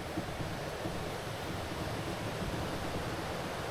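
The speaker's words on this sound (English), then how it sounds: "Oh, a nice waterfall." Steady rushing water from a waterfall beside a canoe portage in Algonquin, a constant broadband roar with no pauses, close and fairly full, with no voices over it.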